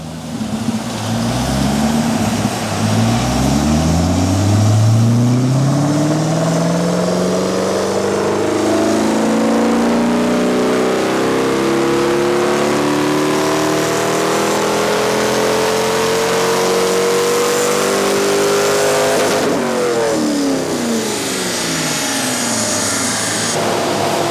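A Corvette C5 engine revs up on a dyno pull, its pitch rising steadily for about twenty seconds as it climbs through the rev range, then dropping off sharply near the end; loud, close and alone.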